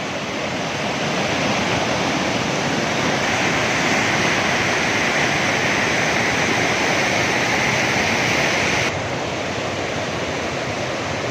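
Fast, clear Neelum river in Pakistan's Neelum valley rushing over rocks, a loud steady roar of churning water that holds constant throughout, then drops slightly near the end, with no voices.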